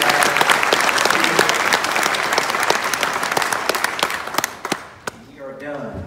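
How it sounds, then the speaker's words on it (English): Dense applause from a crowd at a police academy graduation ceremony, steady and loud, then thinning into scattered claps near the end as a voice begins to speak. "Let's give them one more round of applause."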